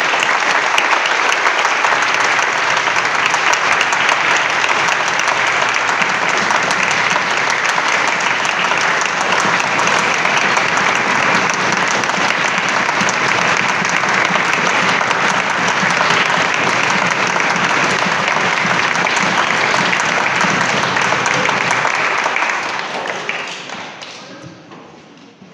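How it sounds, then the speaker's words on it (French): Congregation applauding at a church confirmation service, a long sustained burst of dense clapping from many people that holds steady for over twenty seconds before tapering off at the end. "Et nous pouvons vous applaudir maintenant,"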